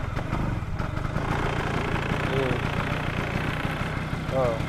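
A Vespa two-stroke scooter engine idles steadily at close range, a continuous low throbbing drone with a brief murmur over it.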